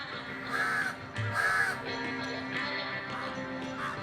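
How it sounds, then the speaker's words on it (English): Black crows hovering over a veranda breakfast buffet caw in a series of harsh, clear calls, several spaced bursts against quiet outdoor background, no voices. "the black crows who hover ominously over the breakfast buffet on the veranda"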